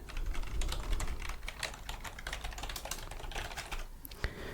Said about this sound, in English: if you have guessed typing on a keyboard